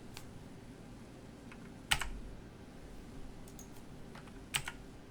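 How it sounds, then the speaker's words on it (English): Keys tapped on a computer keyboard, sparse sharp clicks with two louder presses standing out over a steady hum of room noise. "On your keyboard, press the arrow to the right."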